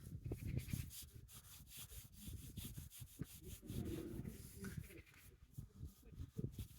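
Scratch remover being rubbed in a thin layer onto a scratched surface makes a close, steady rhythmic rubbing and scuffing with repeated strokes and no voices.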